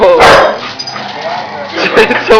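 Two dogs bark loudly and excitedly at close range, sharp yips and barks in bursts over ongoing talk from people nearby.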